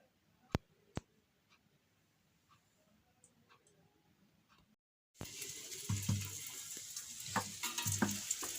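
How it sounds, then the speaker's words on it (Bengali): Kachori and dal puri fry in oil: after a quiet stretch with a couple of sharp clicks, a loud, bubbling sizzle suddenly starts and continues close up, with light scraping of utensils. "এই ডালপুরির পুর দেওয়া হয়ে গেছে এবার ভাজা হচ্ছে"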